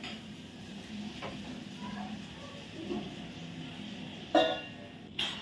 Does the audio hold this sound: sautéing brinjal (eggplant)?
yes